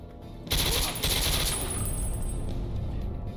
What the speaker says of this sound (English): I do have a silenced SMG.